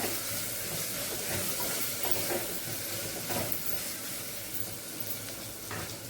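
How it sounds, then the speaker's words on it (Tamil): Homemade ground spice powder sautés in a pan with a soft, steady sizzle and hiss, faint, close and continuous throughout, with no voices. "கொஞ்சோண்டு இதுவும் வீட்டில் அரைச்ச தூள் தான் ரெண்டு நிமிஷம் வதக்கி விட்டுருவோம் நல்லா"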